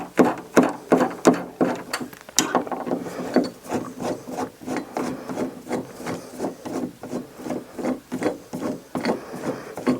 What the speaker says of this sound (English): we're going to remove these screws here. These are just Phillips head screws, and you could take them out.